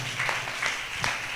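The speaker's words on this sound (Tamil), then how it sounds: "கைதட்டுவோமா எல்லாரும்?" A church congregation at an Easter Sunday service claps together in a short burst of applause, a few loud pulses of clapping that fade quickly.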